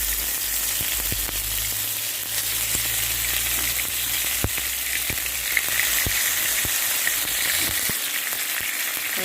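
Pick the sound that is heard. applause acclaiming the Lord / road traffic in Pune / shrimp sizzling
shrimp sizzling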